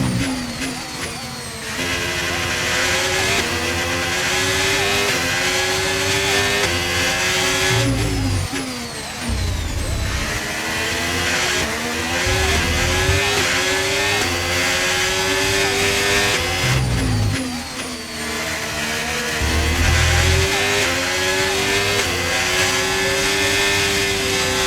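An F1 race car engine in the F1 25 video game, at the Spain circuit, with the engine running hot. It screams loudly and close, rising through repeated gear changes with brief drops between.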